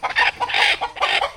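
Chickens cluck on a chicken farm in several close, fairly loud bursts one after another, heard alone.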